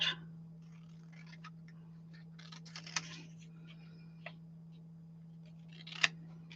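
Scissors snip paper while trimming a small piece from an advertisement for an altered envelope craft project, with a few quiet, sparse cuts and clicks over a steady low hum and no talking.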